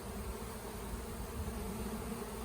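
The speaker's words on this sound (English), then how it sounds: "so many bees" A dense swarm of honeybees buzzes steadily and loudly around three beehives, a continuous close drone filling the whole moment without a break.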